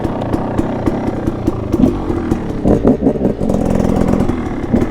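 A warm Husqvarna 300 TE two-stroke enduro motorcycle engine running close by, rapid popping idle that rises into several throttle blips and revs, loud and alone.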